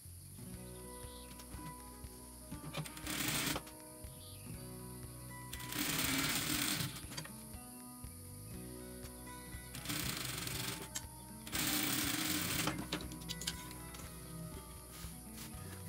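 A sewing machine stitches a Christmas quilt block in short bursts, with several louder runs of rapid needle chatter separated by quieter pauses, close by and with no talking.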